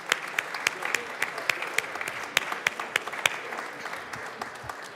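Applause in the Colorado House chamber during a legislative session, a crowd clapping steadily with sharp individual claps standing out, fairly distant and moderately loud, continuing for several seconds.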